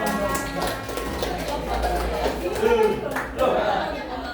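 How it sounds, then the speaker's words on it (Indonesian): A group of training participants claps hands in a room, the clapping fairly loud and uneven, with talk and background chatter mixed in. "Oke, beri tepuk tangan."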